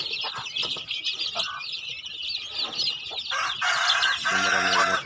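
Many turkeys on a farm call and cluck in a dense, loud, overlapping chorus close by, with a few wing flaps and no talk.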